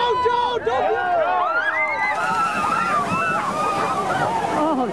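Costumed people at a winter polar plunge charge into 40 to 50 degree water, with steady sloshing and splashing under loud, excited shouting and cheering from a crowd.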